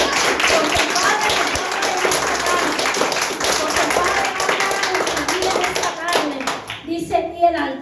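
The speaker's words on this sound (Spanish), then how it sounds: "Dale un fuerte aplauso al que vive el reino." A church congregation claps enthusiastically, quick overlapping hand claps with voices and children's chatter mixed in, tapering off into scattered talk near the end.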